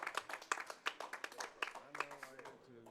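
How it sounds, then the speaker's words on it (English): An audience at a live speedrunning marathon, the ESA Summer 2019 run of The Last of Us, gives brief, scattered hand claps in sharp, uneven bursts. A voice speaks over them and continues after the clapping thins out. "Get an applause for that."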